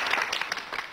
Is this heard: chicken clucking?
no